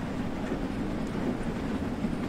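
A steam locomotive running in the Train Sim World 2 game, a steady rolling rumble of wheels and carriage noise held at an even loudness throughout, with no voices.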